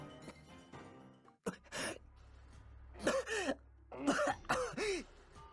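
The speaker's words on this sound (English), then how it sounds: "And Gerard lightly coughs the moment Roman stills." A game character in Tears of Themis gives a light cough, heard as a few short, throaty bursts spaced across the clip over a low, steady background drone.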